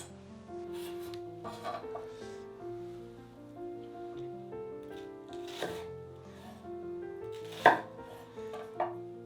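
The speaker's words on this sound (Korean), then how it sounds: "자 이렇게 민치로 잘 다져줍니다." Food being minced with a knife on a board: irregular bursts of sharp chopping taps, some louder, spaced over a quiet background with low music-like hum and no speech.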